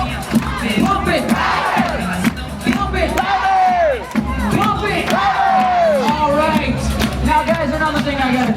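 A large cruise ship crowd shouts back in loud unison, roaring a word twice in reply to a call from a host, with steady cheering and excited voices filling the space throughout.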